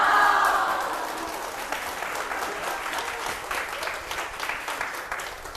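Audience applause at a talk by a voice actor, a burst of many people clapping that starts strongest and then settles into a steady, moderately loud patter that fades slightly at the close.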